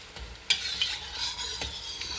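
Dilis anchovies sizzle in hot oil as a utensil stirs and scrapes through them, a steady close crackle broken by a few knocks against the pan, with no voices.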